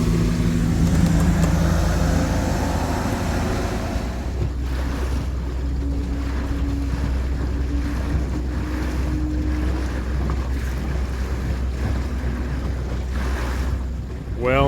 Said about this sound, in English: We're getting passed by a bass boat